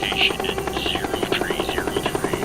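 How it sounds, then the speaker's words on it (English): A military medevac helicopter in Vietnam flies past with a steady, rapid rotor chop, loud and close, running throughout with no talk over it. "a medevac chopper is en route to take them to one of the 18 military hospitals in Vietnam."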